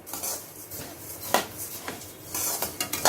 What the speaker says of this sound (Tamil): நம்ம ரெண்டாவது முறை மல்லியும் நம்ம பாத்திரத்தில் சேர்த்துட்டோம் அதையும் நல்லா நல்லா வறுத்து எடுத்துக்கலாம்